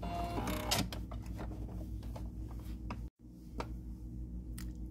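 A sewing machine sews an overcast utility stitch along a fabric edge, giving a steady mechanical whir with rapid rhythmic needle ticking, close up, briefly cutting out for a moment before resuming.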